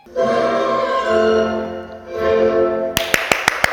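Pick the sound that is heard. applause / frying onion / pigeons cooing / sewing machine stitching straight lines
applause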